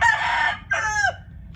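A fighting rooster crows nearby, a loud, close, two-part call with a long first note and a shorter second one, followed by a faint clucking sound.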